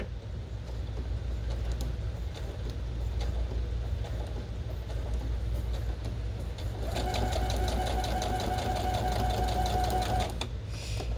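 A sewing machine runs steadily, stitching costume fabric with a back stitch, its motor hum continuous throughout and the whirring growing brighter and faster in the later seconds.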